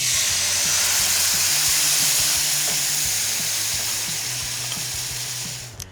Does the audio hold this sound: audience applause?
no